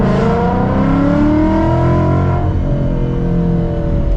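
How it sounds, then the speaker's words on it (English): A Stage 3 tuned Roush Mustang revs loudly and steadily nearby, its deep exhaust rumble rising and settling over a few seconds with no talking. "I love that exhaust."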